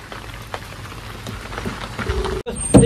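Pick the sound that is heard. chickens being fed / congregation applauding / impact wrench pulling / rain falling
rain falling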